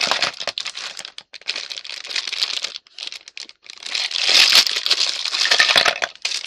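Plastic packaging of a cross-stitch kit being torn open and handled, with continuous loud crinkling and crackling in bursts and short pauses, close up.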